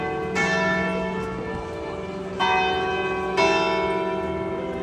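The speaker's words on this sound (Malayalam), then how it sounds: "പള്ളിമണി" A church bell in Honfleur, France, tolls three resonant strikes at uneven intervals, each leaving a long ringing decay that overlaps the next, heard clearly and fairly near without talk.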